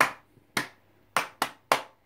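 Five sharp, close hand claps in an uneven rhythm, each crisp and quickly decaying, with short gaps of quiet between them and no talking.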